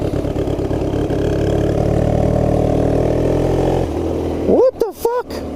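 Honda Rebel motorcycle converted into a dirtbike, its engine running in a steady loud drone for several seconds, then cutting out as rising vocal-like tones and short bursts follow near the end.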